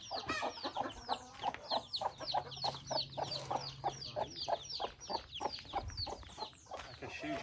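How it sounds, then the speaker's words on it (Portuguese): Free-range chickens on a small Brazilian farm cluck and chatter continuously nearby, with many overlapping short calls in a busy, uneven rhythm. "Tá cheio de galinha ali embaixo."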